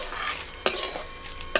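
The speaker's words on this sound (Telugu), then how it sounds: "ఈలోపు మనం గోంగూరని ఆయిల్లో వేసుకొని వేయించుకుందాము." Gongura leaves frying in hot oil for a village-style roti pachadi give a steady close sizzle, with two sharp utensil scrapes or stirs cutting in partway through and again near the end.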